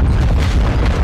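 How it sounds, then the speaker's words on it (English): Heavy explosions boom on a battlefield in Call of Duty Modern Warfare 2, a dense, loud rumble of blasts with no speech. "A lot of explosions everywhere."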